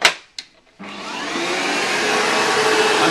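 A HEPA vacuum cleaner is switched on to clean carpet after a couple of sharp clicks, then settles into a loud, steady whining roar close by.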